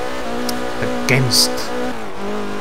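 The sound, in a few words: Porsche 944 with Nissan SR20DET engine, Forza Horizon video game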